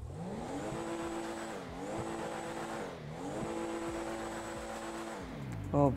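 A BMW M4 Competition engine in GTA 5 drones steadily, its pitch rising and falling through gear changes, loud and continuous, with a faint tire squeal near the end.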